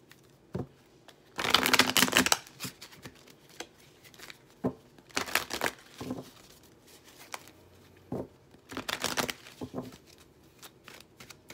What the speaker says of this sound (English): So my decks are shuffled